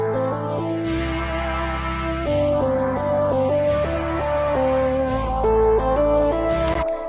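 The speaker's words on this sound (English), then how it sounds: "It's a chord progression with a melody over the top," A synth pad chord progression from the Sample Logic Tronix instrument, with a bright lead melody stepping over the top and a sweeping filtered texture; steady, full and loud, with no voices.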